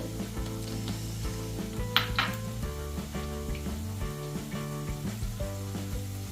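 Spices and sliced onion fry in a pan for a creamy chicken pulao, a steady close sizzle with occasional stirring clatter and tonal background sound underneath.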